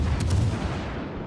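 A heavy naval gun salvo booms once from a warship in World of Warships, a deep low rumble opening with sharp cracks and fading over about a second.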